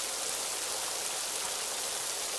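Steady rain falls in an animated Hindi cartoon, a dense, even hiss of downpour heard on its own, without talk, for the whole short stretch.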